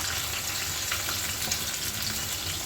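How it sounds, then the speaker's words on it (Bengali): Steady hissing sizzle of meat frying in hot oil for a Rajasthani meat curry, a continuous bright crackle holding even throughout with no talking. "এবার মাংস দিয়ে দিচ্ছি।"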